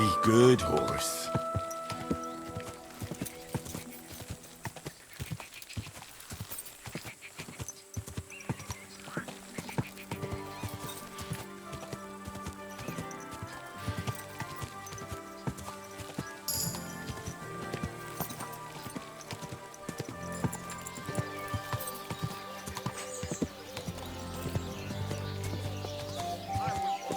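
Horse hooves clip-clop in a steady rhythm over a video game's music and ambience, with voices speaking at times.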